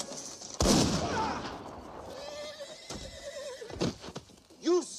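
A horse whinnies loudly near the start, and more neighs follow amid hoof clatter and sharp gunshot-like bangs, with voices heard in the scene.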